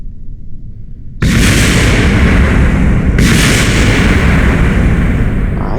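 A rocket blows up in the video game Kerbal Space Program: after a quieter low rumble, a sudden loud explosion erupts into a sustained roaring blast, with a second burst about two seconds later, and it continues without pause.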